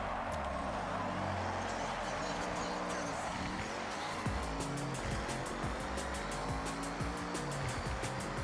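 A race car in the Forza Horizon 6 video game squeals its tires through a series of hairpin turns with the e-brake, engine droning loudly and steadily throughout.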